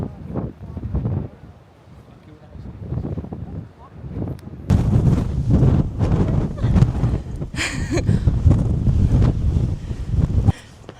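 Outdoor wind in Dublin gusts hard across the microphone, loud, uneven rumbling buffets that swell and drop, strongest in the second half, with possible faint voices underneath.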